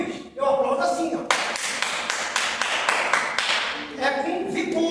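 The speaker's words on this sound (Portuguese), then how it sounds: "quando é para aplaudir Jesus, eu aplaudo assim, ó" Vigorous hand clapping inside a church, a fast, loud run of sharp claps lasting several seconds, framed by someone speaking before and after.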